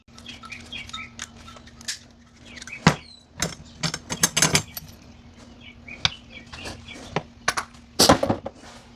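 A metal camera mount is taken apart by hand, giving scattered clicks, ratcheting turns and sharp metallic clinks at an uneven pace, with a steady low hum underneath and no talking.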